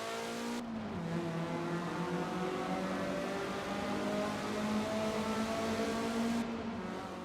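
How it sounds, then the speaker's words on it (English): A 2016 Mazda MX-5 in the racing game Forza Horizon 4, a steady loud engine note held under load with a slight pitch change, continuous and alone without speech. "if we compare it to its Japanese sibling, the 2016 Mazda MX-5"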